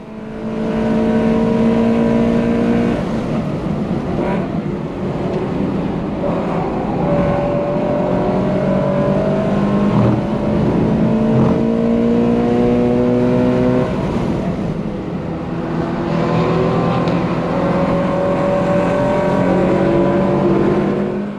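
Race cars lapping Watkins Glen International, including a Corvette and a time-trial Miata, with a loud, close in-car engine howl that climbs and drops through gear shifts and brief lifts over about twenty seconds, no talking.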